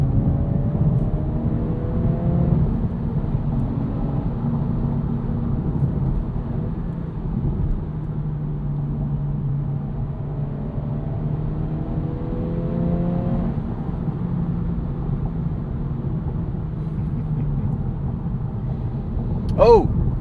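A 2026 Acura Integra A-Spec with a six-speed turbo engine revs through a tunnel, giving a low, echoing engine hum with rising pulls and one short sharp sound near the end.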